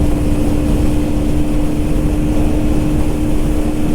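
A KTM Duke 160 motorcycle engine pulls hard in sixth gear, a steady loud drone with a fixed tonal whine and a dense rumble, continuous throughout with no talking.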